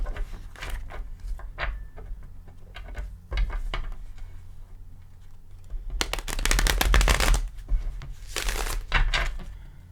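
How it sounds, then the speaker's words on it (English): A Cosmic Tarot deck being shuffled by hand, soft rapid card riffles and taps in short bursts, ending in a louder flurry of flicking cards close to the microphone with no talk. "Already pre-shuffled, but we'll give it a couple shuffles."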